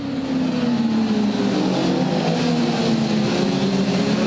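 Triumph Daytona motorcycles race on a street circuit, a steady loud engine drone whose pitch slowly falls as the bikes pass, with continuous roar and no speech.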